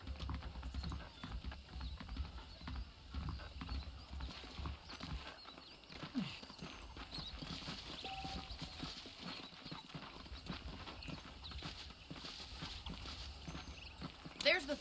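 Horse hooves clip-clop steadily through a Red Dead Redemption video game scene, a walking rhythm of hoofbeats mixed with ambient game sound and talking voices.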